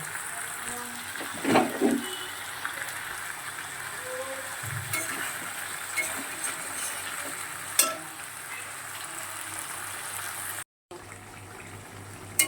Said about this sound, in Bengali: চিকেনটা প্রায় 5 থেকে 7 মিনিটের মতন কষিয়ে নিয়েছি কিন্তু